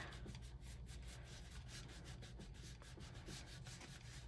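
Paper being rubbed down by hand on a 6x6 scrapbook album page, a faint, steady scratchy rubbing repeated in quick strokes, alone and close.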